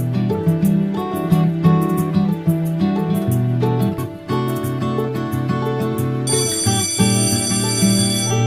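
A mobile phone ringtone plays as a loud, continuous melodic tune with layered tones, brighter higher notes entering near the end, without any talking.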